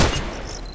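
A single Colt Python Elite revolver shot in the game Contract Wars, a loud sharp crack at the start followed by a short decaying rumble, with no talking.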